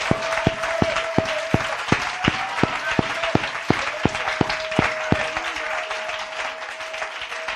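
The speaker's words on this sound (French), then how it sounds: "peut applaudir le Seigneur." Church congregation applauding the Lord, a full sustained round of clapping with strong, evenly spaced beats running through it and a held tone in the background, fading slightly toward the end.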